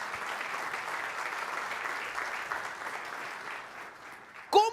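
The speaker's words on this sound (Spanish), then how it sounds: "Un aplauso a usted." A church congregation applauds during a Spanish-language sermon, a steady wash of many hands clapping at moderate volume for several seconds, ending with a brief louder burst.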